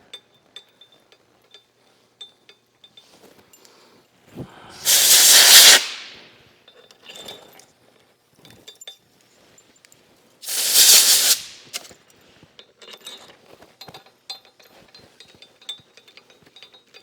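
A wrench tightens bolts on a drill rig top plate fixture, with small ratcheting ticks and clicks scattered through a quiet workshop and two loud hissing, whirring bursts of about a second each.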